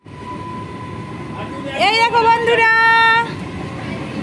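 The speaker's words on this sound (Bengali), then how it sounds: "ট্রেন যাচ্ছে," A train passes close by, its steady rumble rising into a loud, tonal, horn-like blare for about a second and a half before easing back, while someone talks over it.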